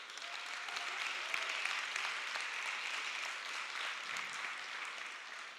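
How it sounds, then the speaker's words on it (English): Steady, moderately faint audience applause at a summit, a dense wash of many hands clapping that holds evenly throughout without standing out loudly. "Give a huge round of applause for Andre."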